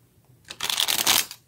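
Tarot cards shuffled by hand during a reading, a dense papery riffling burst lasting under a second after a quiet start, close and fairly loud, with no talking over it.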